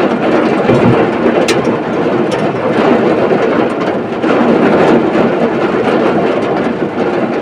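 Heavy rain pounds steadily and loudly on the cabin roof of a Suzuki Carry, a dense, roaring patter with scattered sharper hits. It is close and continuous with no talking.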